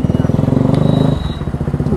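A motorcycle engine thumps with a rapid, regular idle pulse close by, loud and steady, shifting slightly in tone midway.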